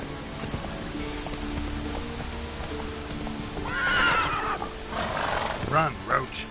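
Roach, a horse in the video game The Witcher 3, neighs and gallops with rhythmic clip-clop hooves over a steady outdoor ambience, a whinny rising midway and hoofbeats sharpening near the end.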